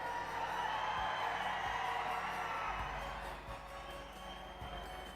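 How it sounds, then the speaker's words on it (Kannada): A large crowd at a political rally in Sedam, Kalaburagi, applauds and cheers in a dense, steady roar of clapping and voices that fills the whole stretch, with occasional low thumps underneath. "ಎಲ್ಲರೂ ಸಿದ್ಧರಾಗಿದ್ದೀರಿ ಅನ್ನೋದಾದ್ರೆ ಬರಲಿ ಜೋರು ಚಪ್ಪಾಳೆ"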